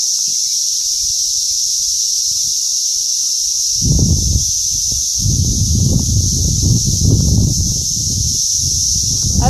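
Swarming periodical cicadas in Ohio make a continuous, shrill buzzing drone that never lets up. Low rustling and gusty noises rise and fall beneath it in the second half.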